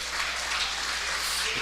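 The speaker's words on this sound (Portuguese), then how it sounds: "Dá um aplauso e fala: eu creio nisso." A church congregation applauds in a dense, steady wash of clapping that fills the whole moment without pause.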